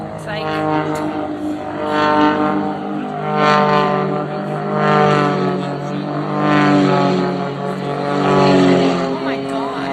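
Propeller airplane flying at an air show with a wingwalker on the wing, a steady droning engine that swells and fades in slow waves, loud and sustained, with a crowd and announcer audible underneath.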